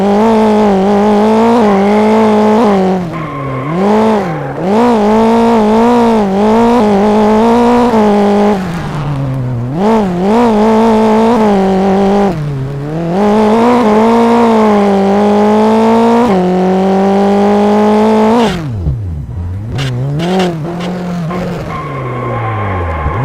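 On-board engine of a rallycross car lapping the Charlotte course in the NASA RallyCross Challenge, loud and close, revs climbing and dropping repeatedly through gear changes and corners, with a sharp lift-off near the end.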